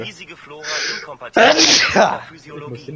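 A sudden loud sneeze bursts out in the middle of German speech from a game's dialogue, breathy and close, cutting across the talk before the voice continues.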